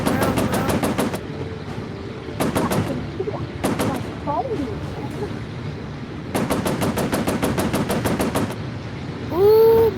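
Machine guns chatter in rapid bursts during an aerial dogfight video game, several distinct volleys of fast repeated shots with engine drone and brief whistling effects between them, and a rising tone at the end.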